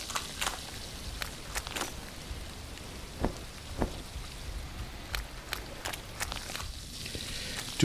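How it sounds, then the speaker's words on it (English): Light rain falls steadily in The Last Plague: Blight, a soft continuous patter broken by scattered sharper drops and occasional brief knocks, quiet and without talking. "it's raining"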